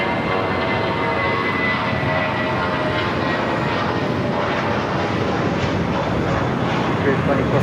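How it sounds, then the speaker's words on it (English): Old Northwest Airbus A319 jet, delivered in 2002, taxiing at LAX, giving a steady loud engine roar and broadband whine that stays constant throughout, with no clear voices on top. "It's an old Northwest A319 delivered to them in May of 2002"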